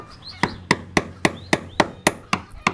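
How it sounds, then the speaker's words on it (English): Hammer blows striking a chisel to remove caulking on a boat out of the water, about ten sharp metallic strikes at a steady rhythm, close and loud. "you get extra hammer and chisel time"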